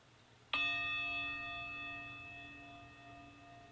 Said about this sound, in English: As we listen to the chime